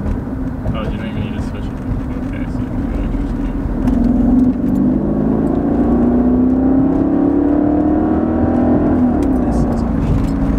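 A Mercedes S55 AMG engine drones steadily while driving, then rises in pitch as it accelerates midway. It sounds loud from inside the cabin, and people talk over it.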